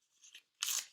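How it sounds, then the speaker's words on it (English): Paper is ripped up by hand for a craft project, two short tearing bursts, the second louder and crisper, close up with no talking. "how you can rip the paper up"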